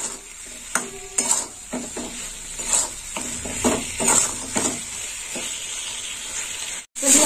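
Potatoes being stirred and sautéed in a pan for a mango and rohu fish curry, with a steady sizzle broken by repeated scraping and clinking strokes of the spoon against the pan.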